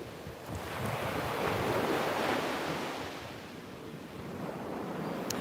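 Surf rolling onto a Gulf of Mexico beach in Naples, southwest Florida, a steady broad wash that swells and recedes, with wind buffeting the microphone and no one speaking.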